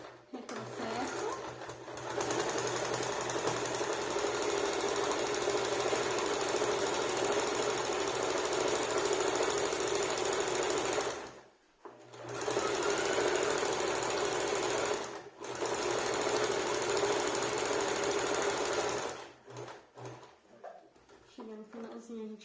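A sewing machine runs in long, steady bursts while decorative stitches go onto a small fabric bag, with brief pauses between runs and a person speaking quietly at times.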